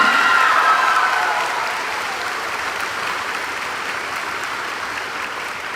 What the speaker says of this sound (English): Please join me in a round of applause as we show our appreciation.